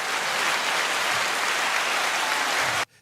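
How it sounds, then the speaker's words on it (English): A crowd gives a dense, steady round of applause, many hands clapping together close and even, then cutting off abruptly near the end. "Y'all get a round of applause"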